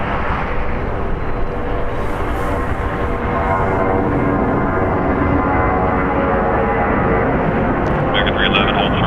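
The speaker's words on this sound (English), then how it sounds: "Departing here is JetBlue Airways, flight 1463, going to San Jose del Cabo. It's an Airbus A320, 19 years old." A 19-year-old JetBlue Airbus A320 departs LAX with a sustained, loud broadband engine roar that holds steady throughout, with voices talking over it.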